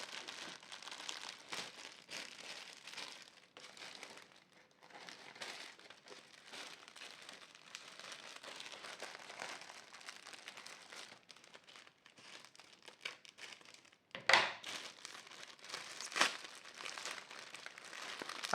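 An AliExpress envelope that has been re-taped all over is worked open by hand, with close, irregular crinkling and crumpling of plastic and paper and one sharper tearing rip near the end.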